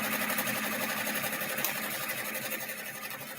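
An embroidery sewing machine stitches out the black outline of an applique house in a glow-in-the-dark design, giving a fast, steady mechanical whir with rapid needle pulses, loud and close, with no voices.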